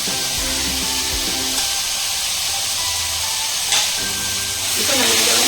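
Four tomatoes tossed into a hot pan for vegetable sambar, producing a continuous bright hiss and sizzle that runs throughout while a person talks over it.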